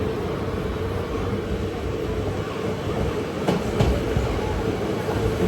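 Palakkad to Tiruchendur Express running toward a station, a steady rumbling roll of train wheels and carriage noise heard from inside, continuous and fairly loud with a few brief rattles.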